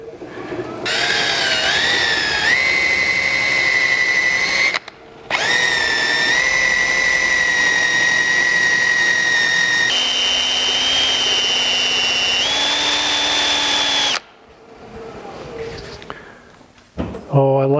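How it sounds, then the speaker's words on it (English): A drill fitted with a buffing wheel polishes a turned wood piece in three long bursts separated by brief pauses. It gives a loud, steady high-pitched motor whine that shifts pitch as pressure changes, then stops, leaving quieter shop noise. "I've got a drill with a buffing wheel in it"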